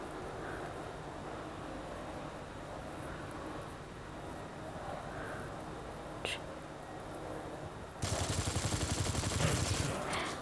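Gunfire in the shooter video game Nova 3, faint shots under a low game soundscape, then a louder dense burst of rapid firing near the end, with quiet voices in the background.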